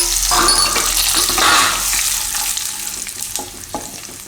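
White sesame seeds, curry leaves, chillies and asafoetida crackle and sizzle in hot oil over a low flame, a loud steady frying hiss with popping and spluttering throughout, no talking.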